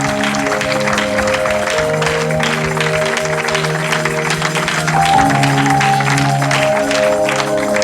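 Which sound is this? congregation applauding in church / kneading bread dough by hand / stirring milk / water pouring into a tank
congregation applauding in church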